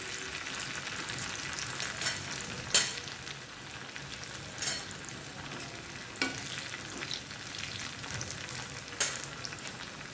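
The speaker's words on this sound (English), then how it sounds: "Let the onions turn into golden brown." Onions frying toward golden brown for a Kerala raw banana and green gram erissery, a soft continuous sizzle with a few sharp stirring clatters spaced apart.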